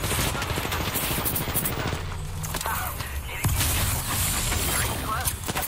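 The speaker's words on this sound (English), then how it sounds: "Being shot at. Taking fire!" Rapid gunfire bursts and impacts in the Apex Legends battle royale game, dense and continuous with crashes and effects layered throughout, game voice lines faintly mixed in.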